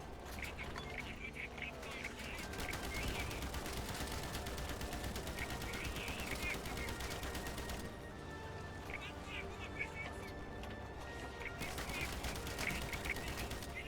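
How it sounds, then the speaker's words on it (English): Sustained machine gun fire in the Stalingrad battles of the Easy Red 2 war game, a dense rapid rattle running almost continuously with brief lulls, under someone talking. "He was being gut shot by fucking machine gun there."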